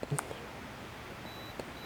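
A Pentax 67ii medium-format film camera's built-in self-timer gives a few faint, brief electronic beeps near the start, with one more soft beep later in a quiet outdoor setting.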